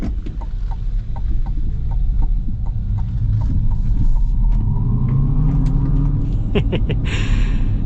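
A 2025 GMC Hummer EV 3X SUV accelerates hard, heard from inside as a loud, steady low rumble of road and motor with a faint rising whine and light ticking clicks.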